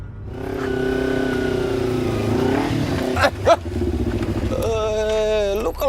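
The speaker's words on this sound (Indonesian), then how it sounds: "Lu kalau bawa motor hati-hati dong." A motorcycle engine revs loudly up close, its pitch rising and dropping as it passes through a tense street scene, with voices and background music layered underneath.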